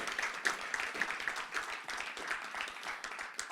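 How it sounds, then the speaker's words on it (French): A church congregation applauds for Jesus, steady rapid clapping from many hands in a room, with voices mixed faintly into the crowd noise. "on acclame pour Jésus"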